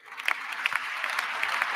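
Audience applause at a presidential inauguration speech: brief, steady clapping from a crowd, moderately distant, with scattered sharper claps.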